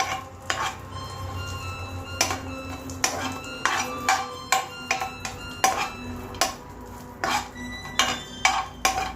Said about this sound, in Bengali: হালকা হাতে ঘিয়ে কিশমিশগুলো খুব ভালো করে মিক্স করে নেব।